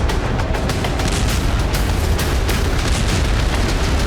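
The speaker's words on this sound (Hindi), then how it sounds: "दक्षिणी लेबनान के दायरे में इजरायल ने एक के बाद एक 4 धमाके किए" Israeli strikes in southern Lebanon make a loud, unbroken roar of rumbling blasts, with sharper bursts rising out of dense low-end noise.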